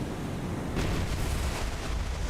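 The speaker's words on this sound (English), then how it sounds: "Ooh, that explosion doesn't sound so good." A naval explosion in the War on the Sea naval combat game, heard as a steady broadband rumble that swells into a louder burst about a third of the way in and then holds as a dense roar.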